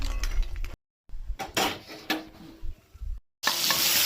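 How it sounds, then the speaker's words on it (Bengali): Bori lentil dumplings drop into hot oil and sizzle, with utensils stirring and scraping the pan in uneven bursts, close and moderately loud, broken by brief gaps. "তেল গরম হয়ে গেছে, বড়ি কটা দিয়ে দেবো।"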